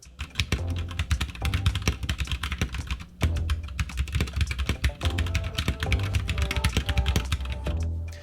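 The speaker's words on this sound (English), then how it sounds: "Here is a quick sound test of the Gatoron Browns which I chose." Steady, rapid clacking of Gateron Brown mechanical keyboard switches, close and continuous, with a brief pause partway through before typing resumes.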